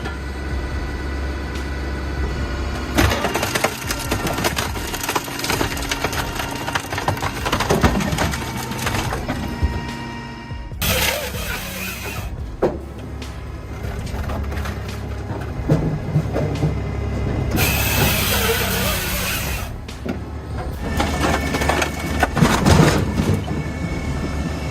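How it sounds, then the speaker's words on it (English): A Hakki Pilke 55 professional sawmill cutting large logs, loud continuous mechanical roar and grinding with rattling clatter, broken by two short, sharp high-pitched cutting bursts, no voices. "The Hakki Pilke 55 is a professional sawmill designed for high efficiency."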